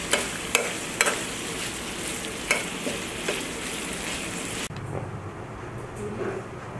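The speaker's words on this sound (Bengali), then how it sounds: "যত নাড়া যাবে তত ভাজা ভাজা হবে এবং অনেক টেস্ট হবে।" Beef tripe frying in a pan while it is stirred, a steady loud sizzle broken by sharp spatula scrapes and knocks against the metal, then a quieter, softer frying hiss near the end.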